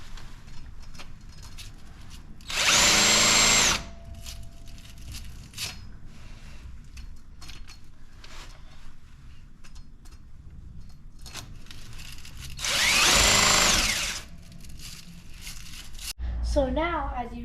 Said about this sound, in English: we're going to be using our special tool that I showed you at the beginning of the video to clean these studs